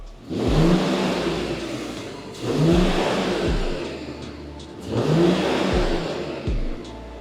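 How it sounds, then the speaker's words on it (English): A Mercedes-Benz GLE450 on its stock exhaust revs three times in a row, each blip rising sharply and settling back to a steady idle rumble, close and loud with no talking. "let's give the GLE with the stock exhaust a couple of revs and hear how it sounds"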